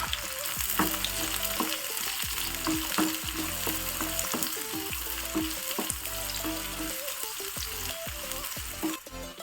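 Chopped onion fries in a pan with a steady hiss and crackle. Tonal sounds run underneath, and the sizzle holds steady for the whole stretch before briefly dipping near the end.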